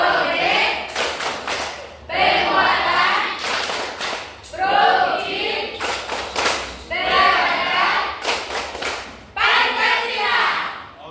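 A group of people performing the tepuk P5 clapping routine at a school training session, bursts of rhythmic clapping and chanted voices in several distinct phrases separated by short pauses, loud and close.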